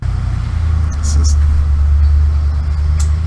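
Car engines rumble on a road in Dubai, a loud, deep, continuous drone of traffic that stays close and steady the whole time.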